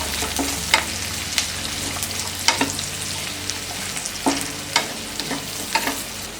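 Onions and carrots fry in a pan, their steady sizzle broken by regular scraping stirs of a spatula every half second or so, close up with no voices.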